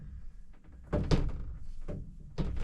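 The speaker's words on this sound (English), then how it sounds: "I'll close this door here" A door swings shut at a cabin that has a snare line and a Supercub plane, giving a solid close-range thunk followed by a couple of softer knocks and rattles.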